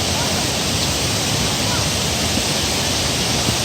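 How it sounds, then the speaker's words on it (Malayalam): Thusharagiri waterfall rushes with great force, a loud, steady roar of falling water that fills the scene without pause. "നല്ല ശക്തിയിൽ വെള്ളം പോകുന്നുണ്ട്"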